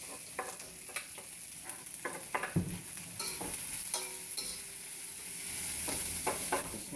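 Vegetables stir-fry in oil in a smoking-hot wok with ginger, giving a steady close sizzle broken by repeated scraping and tossing clatters, with no talking.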